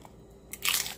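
Crispy nachos with jalapeños give a single sharp, close crunch as they are bitten, after a quiet moment, with no talking.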